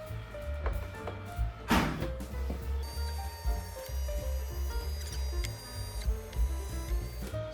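A Neakasa M1 self-cleaning litter box runs its motor just after power-up, giving a low steady mechanical hum with faint whirring and a few soft clicks and knocks, close by and without talk.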